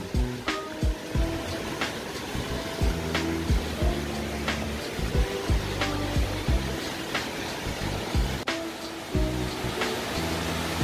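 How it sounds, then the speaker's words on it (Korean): Yukdam waterfall in Seoraksan's Towanggol valley, over 40 metres high, a steady broadband rush of falling water heard at moderate level, with scattered knocks and rumbles from nearby movement layered over it. "드디어 육담 폭포에 도착을 하였습니다."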